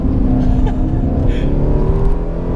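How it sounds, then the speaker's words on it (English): An Aston Martin DB11 Volante chases a Lamborghini Huracan around Central Circuit near Osaka, Japan, its engine a loud, close, steady drone that swells briefly as it revs. "I'm now chasing a Lamborghini Huracan around a circuit called Central Circuit"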